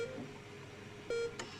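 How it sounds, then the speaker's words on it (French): A heart monitor in the video game Not For Broadcast gives a soft electronic beep, with a single clear tone standing out against a quiet hum. "Un bip régulier du moniteur cardiaque vous ramène doucement à la réalité."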